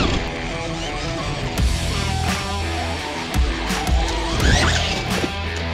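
An Arrma 3S RC car fitted with a Hobbywing Max10 G2 motor and ESC whines along at low speed, with steady electric motor tones, scuffs and brief tire-skid bursts throughout.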